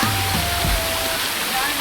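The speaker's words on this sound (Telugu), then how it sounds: "ఇంకా పైనుంచి నీళ్ళు వస్తుంటాయి." Water rushes down the Pinnapuram waterfall in Nandyal, Andhra Pradesh, a close, continuous roaring wash with someone speaking over it.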